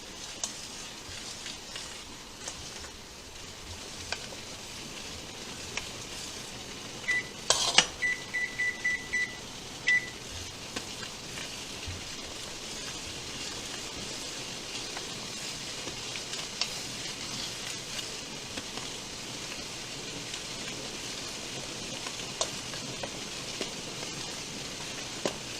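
Pineapple mango habanero jam cooks in a pot under constant stirring, giving a steady soft sizzling hiss throughout, with a short run of electronic beeps partway through and no talking.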